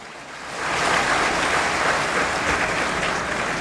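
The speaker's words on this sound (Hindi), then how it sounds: "एक बार पूरा सदन जोरदार तालियां बजाए।" A packed assembly hall at a religious discourse breaks into loud, sustained clapping that swells after a moment into a dense, continuous roar of applause, with no talk.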